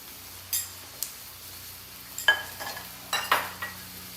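Shallots softening in a hot pan give a quiet, low sizzle, broken by several sharp scrapes and clinks of a utensil stirring against the pan.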